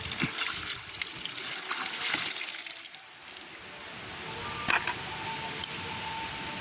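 Drumsticks and peanuts being rinsed in water, with a continuous splashing, running-water wash that swells and dips over a few seconds and ends in a couple of brief sloshes.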